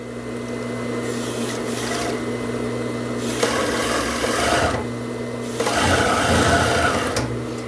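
A sewing machine stitches a hem on fitness shorts, its motor whirring steadily in several long runs with brief pauses, loud and close, with fabric rubbing beneath.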